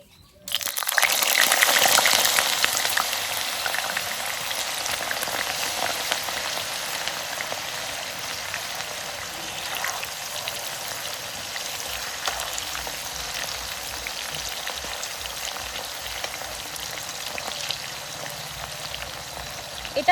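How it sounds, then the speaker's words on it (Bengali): Sliced bananas dropped into very hot oil for banana chips: a loud burst of sizzling at the start that settles into a steady, dense, crackling fry, continuous and close for about twenty seconds. "তেলটা একদম গরম হয়ে গেছে, এখন আমি এর মধ্যে কেটে রাখা কলাগুলো দিয়ে দেব।"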